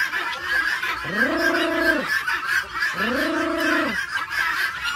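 Domestic ducks give two drawn-out, nasal honking quacks a couple of seconds apart, fairly close and loud over a constant outdoor background hum.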